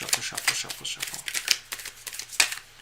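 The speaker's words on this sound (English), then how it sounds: "Just give me one more last minute shuffle." Tarot cards being shuffled by hand in quick riffling bursts, a dense papery flutter repeating several times close up, with a faint steady low hum beneath.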